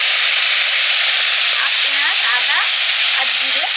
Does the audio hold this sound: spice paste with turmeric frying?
yes